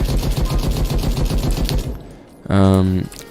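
The Spray and Pray rifle in the Krunker shooting game fires a loud, rapid automatic burst for about two seconds. The firing stops, and a short tonal electronic sound follows.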